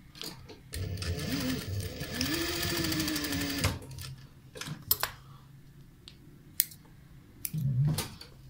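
A sewing machine stitches a seam on a flounce-sleeve blouse in fast, even bursts of whirring clatter, close by, broken by pauses with light handling clicks and fabric rustle.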